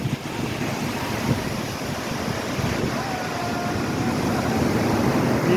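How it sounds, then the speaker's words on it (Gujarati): Rough sea surf at a full-moon high tide, water surging up onto a roadside market area; a steady, loud wash of breaking waves and wind buffeting the microphone, continuous and close, with no talk. "દરિયાની ભરતી આજે બહુ જોરમાં ભાઈ આજે પૂનમની ભરતી ખતરનાક"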